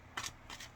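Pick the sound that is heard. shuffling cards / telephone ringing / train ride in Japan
shuffling cards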